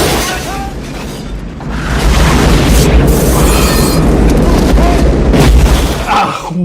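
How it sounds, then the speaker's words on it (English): A loud, sustained explosion from the 1998 action film Lethal Weapon 4 booms and rumbles for several seconds, with a voice briefly heard near the start. "Oh, that's a real explosion right there."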